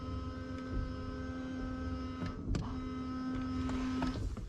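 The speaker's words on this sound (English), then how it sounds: "Pump sounds like it's running." Windshield washer pump on a Honda Civic FG2 whirs as a quiet, steady electric hum lasting several seconds, with a few faint clicks and knocks in the background.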